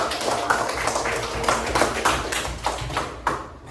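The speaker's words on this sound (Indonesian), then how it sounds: "Saya tepuk tangan buat kita semua ya." A fifth-grade class claps hands together during a coding lesson, a dense, steady patter of many hands lasting a few seconds and fading slightly at the end.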